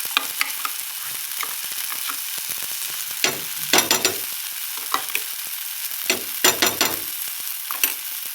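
Mustard paste hits hot oil in a pan with a continuous crackling sizzle, while a utensil scrapes and stirs in irregular bursts, loud and close with no talking.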